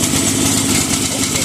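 A Loongsheen LX15 motorcycle engine, just started with the key and the choke at maximum, idles with a close, continuous mid-pitched rumble.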